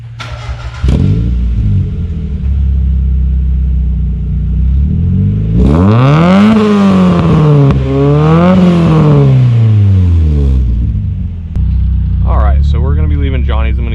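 A Mazda Miata with a new Raceland header exhaust starts up, settles into a rumbling idle, then gives two long rising-and-falling revs and later a few quick blips, loud and close.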